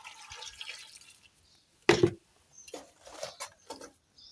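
Clean water is poured over peeled potatoes in a pot for mukimo, arriving in one short splashing burst followed by lighter intermittent trickles and drips, close and moderately loud with no talking.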